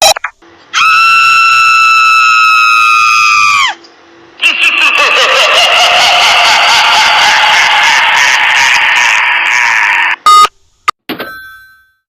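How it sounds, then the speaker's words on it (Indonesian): Spooky laughing ghost or monkey effect: a long, high, shrill screeching shriek, then a harsh rapid cackling chatter that runs for several seconds, loud and close, cut off by a brief burst at the end. "Itu adalah suara setan tertawa atau monyet tertawa ya."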